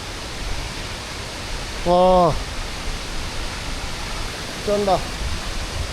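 Continuous heavy rushing from a big Sri Lankan waterfall fills the scene, broken by two brief spoken exclamations from a man.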